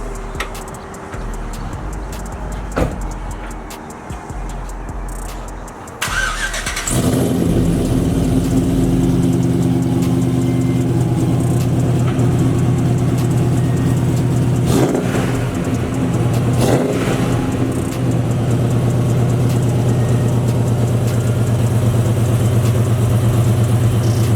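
A Chevrolet Silverado RST pickup truck engine cranks cold and catches, then settles into a loud, steady rumbling idle with occasional small revs, heard up close.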